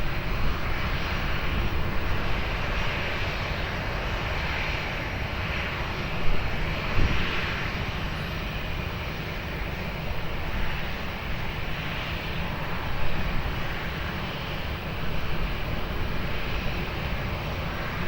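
A Qatar Airways airliner on landing approach to runway 20 at Lisbon Airport, a loud steady jet engine roar with broad rushing noise holding constant throughout, distant yet dominant.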